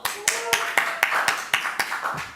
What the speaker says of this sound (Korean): 3조 박수!